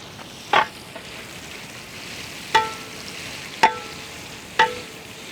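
Sliced big onions frying in pure coconut oil in a heavy pot for a village-style butter chicken masala, a steady sizzle broken by four sharp metallic scrapes of a spoon against the pot.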